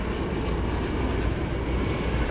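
A Key Lime Air plane, flying as Denver Air Connection, at DFW Airport gives off a steady, broad engine roar that holds at a constant level the whole time.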